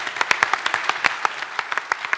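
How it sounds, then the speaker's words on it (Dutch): An audience at a science lecture on mind reading applauds a participant, with crisp distinct claps in a lively, moderately sized burst at close range and no talking. "Applaus voor Hanna"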